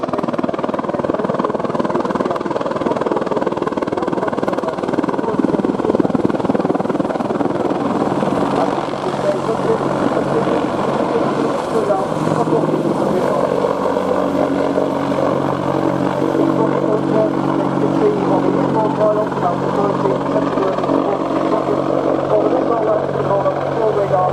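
An AH-64 Apache attack helicopter at an air show at RNAS Yeovilton, a steady, loud rotor and engine drone that holds throughout, with a voice talking over it.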